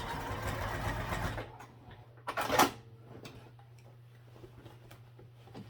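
A sewing machine bastes a tassel piece onto fabric, running in a steady close whir for about a second and a half before stopping, leaving a low hum and one brief clunk.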